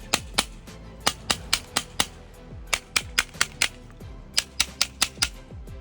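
A rubber mallet strikes a Sig P320 pistol again and again, producing sharp, close, loud knocks in uneven bursts with short pauses between groups.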